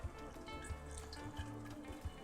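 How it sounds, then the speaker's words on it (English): Water poured gently from a kettle over pour-over coffee grounds, a faint, steady trickle with small splashy pulses and no talking. "you can see me pouring here"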